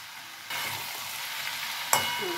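Curry with Malabar spinach being stirred in a pan over low heat, a soft continuous scraping and faint sizzle with one sharper clatter near the end.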